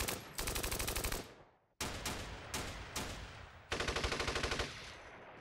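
Sustained bursts of machine-gun and rifle fire from the Steel Panthers wargame, set in an Iran-Iraq war 1980 battle; loud rapid rattling volleys broken by a short gap and a couple of single heavy shots, with no talk.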